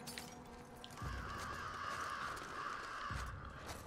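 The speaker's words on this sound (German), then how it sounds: "wir haben die Vögel aufgeschreckt" Crows caw and flap as a startled flock takes off in The Last of Us Part II, harsh repeated calls spreading over a steady ambient hum, moderately loud and with no voices over them.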